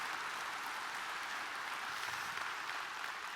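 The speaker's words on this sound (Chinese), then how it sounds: "我们再给 Mr. Lo 一个热烈掌声" An audience applauds at a company regional leaders' training meeting in Malaysia, a sustained, even wash of many hands clapping together at moderate loudness, with no voices over it.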